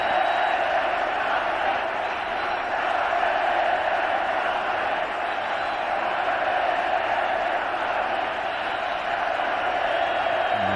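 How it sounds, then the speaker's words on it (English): A big cricket stadium crowd in Mumbai at a Test match roars and chants steadily, a broad distant wall of cheering voices that holds level throughout with no clear break. "Crowd really start to make some noise, chanting, the expectation."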